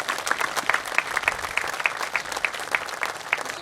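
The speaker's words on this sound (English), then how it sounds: "just one more round of applause for Jim and Coach Smart." Audience applause at a Coaches vs. Cancer charity event, steady crowd clapping with sharp individual claps throughout, fairly close and continuous.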